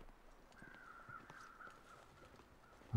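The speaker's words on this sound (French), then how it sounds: "J'entends bien les corbeaux" Crows cawing in the video game The Long Dark, a faint, distant caw drawn out over the snowy outdoor ambience, with a sudden thump at the very end.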